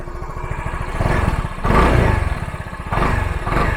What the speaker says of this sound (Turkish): Şey böyle homurdayan tok bir egzoz sesi var.